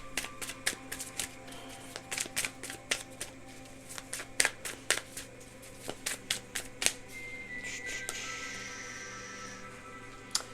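A stack of paper index cards shuffled and riffled close by, in quick bursts of sharp flapping clicks with brief pauses between, ending in a longer continuous riffle, with no voices.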